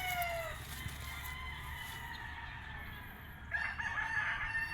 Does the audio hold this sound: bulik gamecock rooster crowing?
yes